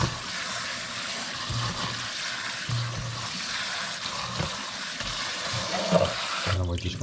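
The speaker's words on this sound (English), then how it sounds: "rinse them off with cold water." Cold tap water rinses cooked noodles in a colander, a steady rushing splash that runs throughout with a brief clatter near the end, while a person talks over it.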